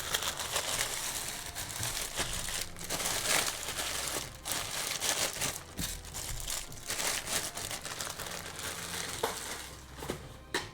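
Small plastic bags are crinkled and crumpled up close while tidying up during a miniatures unboxing, a continuous busy rustle with sharper crackles and brief pauses, no talking.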